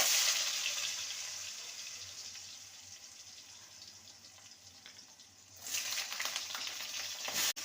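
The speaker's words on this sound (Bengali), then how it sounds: "ঝিঙেকে 2 মিনিট ভালো করে ভেজে নিয়েছি।" Pieces of ridge gourd frying in hot oil after a bay leaf tempering, a soft continuous sizzle that fades gradually, then a brief louder burst of frying or stirring near the end.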